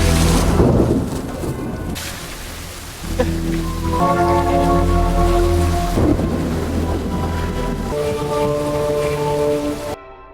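Heavy rain pours steadily during a thunderstorm, with deep rumbling thunder swelling and rolling underneath, loud and close throughout, fading sharply at the end.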